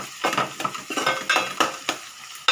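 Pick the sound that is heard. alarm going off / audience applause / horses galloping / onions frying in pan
onions frying in pan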